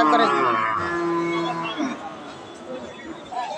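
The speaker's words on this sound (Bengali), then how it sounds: "এটা একটা ক্রস জাতের গাভী গরু।" A young crossbred dairy cow at a cattle market lets out one long, loud, close moo that fades out, then faint crowd chatter carries on behind.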